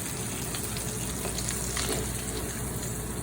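A tomahawk steak sears in a hot pan with garlic and herbs, giving a loud, steady, close sizzle that fills the whole moment without a break.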